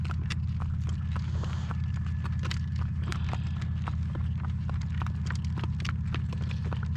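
Hooves of a young two-year-old harness horse clip-clop at a steady trot while it is driven, a continuous rhythmic patter over a strong low rumble of wind during a gale.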